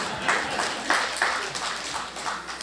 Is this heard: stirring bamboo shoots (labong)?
no